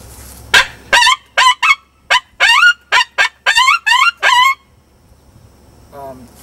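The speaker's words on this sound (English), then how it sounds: "with the Critter Kazoo, you can do a good Coyote or pup distress." A Critter Kazoo predator call blown in a quick series of about a dozen sharp, high, wavering yelps and squeals like coyote pup distress, loud and close, followed by a pause and a faint final cry.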